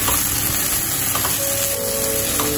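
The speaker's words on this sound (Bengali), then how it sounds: "আমি আস্তে আস্তে করে এখন এই টমেটো আর বেগুন ভাজা ভাজা করে নেব।" Green tomato and eggplant frying in a pan with turmeric, giving a steady close sizzle that runs throughout with no talk.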